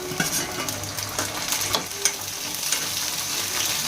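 Tomatoes and masala fry in oil in a pan, giving a continuous close sizzle with light stirring clicks scattered throughout and no talking.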